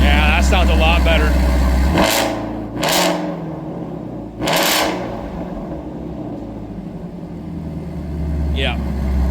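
A 2016 Shelby GT350 Mustang V8 with a Roush H-pipe idles with a deep, steady rumble, a few short throttle blips rising over it, while people talk nearby.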